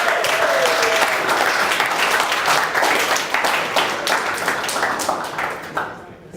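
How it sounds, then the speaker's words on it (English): A crowd at a MOEvement 2018 gathering applauds warmly in a full, continuous round of clapping that gradually thins and fades near the end, with no speech over it. "give him a round of applause for that"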